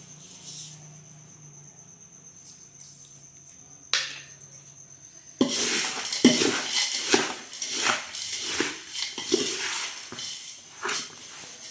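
Poha chivda tossed with dal and salt in a pan: after a quiet start, a run of rhythmic scraping and rattling stir strokes, close and fairly loud, repeating roughly every second.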